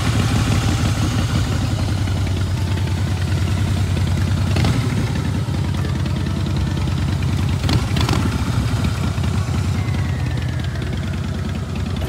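A Harley-Davidson Breakout motorcycle engine idles in Moscow, a steady, close, low throbbing rumble that continues throughout, with a few brief clatters over it.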